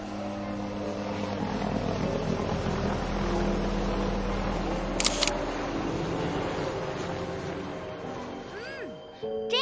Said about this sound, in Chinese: 侦察机起飞！